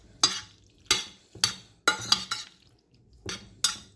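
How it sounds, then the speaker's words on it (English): A spoon stirs seasoning into a Jamaican-style pepper steak dish in a cooking pan, making about eight soft, intermittent scraping and clinking strokes close by, with no talk. "You just stir it in like this."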